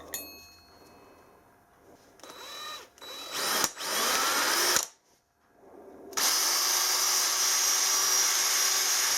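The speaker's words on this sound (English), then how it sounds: "Probably a small drill will be better than that." A small power drill whines in short bursts while drilling metal, stopping and starting, then runs steadily at a high pitch for several seconds.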